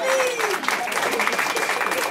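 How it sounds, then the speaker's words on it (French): A crowd applauds the champions at a Corsican championship awards ceremony, with sustained clapping mixed with voices and a faint whistle-like tone. "On applaudit tout le monde"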